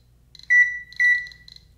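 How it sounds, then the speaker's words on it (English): A Geiger counter in alarm mode near a small radioactive test sample sounds short, shrill electronic beeps in quick pulses, close and clear against a quiet background. "you see it has gone into alarm mode. It's clicking, the numbers have gone way up, the bar graph has gone up, it's beeping, and it's vibrating"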